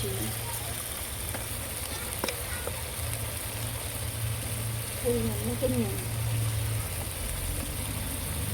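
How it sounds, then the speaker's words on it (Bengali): Chilli powder and turmeric sizzle steadily as the spice masala is fried in a pan for a spicy fish curry, a continuous hiss with faint stirring scrapes. "ভালো করে কষিয়ে নেব মশলাটা"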